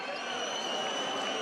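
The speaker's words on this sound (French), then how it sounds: "Les Limougeaux filent au vestiaire sous les huées du public" Crowd in a basketball arena booing at a France game between Limoges CSP and Strasbourg IG, a steady wash of many voices throughout a brief moment.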